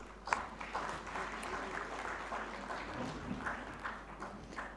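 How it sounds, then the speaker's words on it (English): Sustained round of audience applause for the speakers at a young leaders business summit, a dense crowd clapping steadily and moderately loud for several seconds with scattered sharper claps and faint crowd noise. "A big round of applause for our speakers today."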